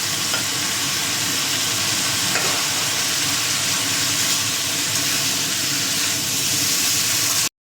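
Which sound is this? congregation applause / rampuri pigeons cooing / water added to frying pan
water added to frying pan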